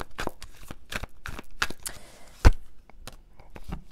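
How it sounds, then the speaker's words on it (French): Tarot oracle cards are drawn and shuffled from a deck, giving a series of crisp, close flicks and slaps in an irregular rhythm, with one sharper snap midway. "je vais tirer une dernière carte"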